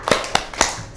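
A classroom of students doing a rhythmic spirit clap in unison, three or four sharp, close claps in quick succession with short gaps between them.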